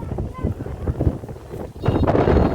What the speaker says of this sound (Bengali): বাতাস চলতেছে